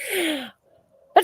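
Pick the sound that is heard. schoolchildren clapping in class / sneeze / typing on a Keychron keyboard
sneeze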